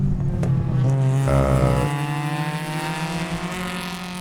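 A Mazda Miata race car at an amateur race at Sebring roars past close by, its engine note rising then dropping in pitch as it passes and fades.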